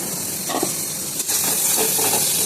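Potatoes frying in a spice paste of Kashmiri chilli powder in a pan, a loud close hiss of sizzling oil with a few quick stirring scrapes and a brief surge midway, no talking.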